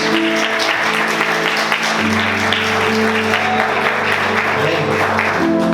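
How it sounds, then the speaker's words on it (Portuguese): Church congregation applauding after a prayer, sustained clapping mixed with music underneath, with tones shifting midway, loud and continuous throughout. "Vamos aplaudir Jesus bem forte"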